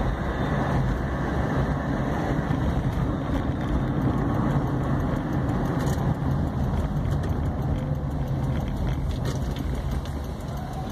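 A car drives over potholed city streets in Divinópolis, its road rumble and jolts steady and close from inside the cabin, with faint rattles and no speech.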